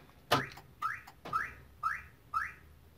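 Five short electronic chirps from a Chevrolet car alarm after remote programming, the first sharper and louder, then four evenly spaced beeps at a steady rhythm, close by.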